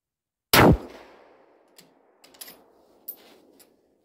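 A single loud gunshot cracks close by near the start and rings out in a long, echoing decay. A few faint clicks and clatters follow, with no talk.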